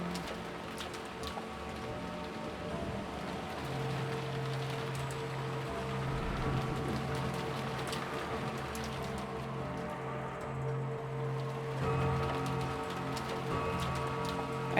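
Rain from the video game Umineko no Naku Koro ni falls as a steady, even patter, with soft tonal music running beneath it for the whole stretch.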